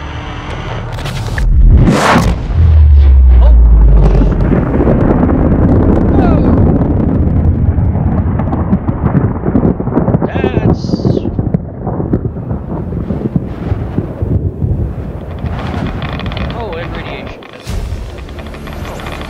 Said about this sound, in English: Wow, that explosion was a lot bigger than the last time I remember seeing it.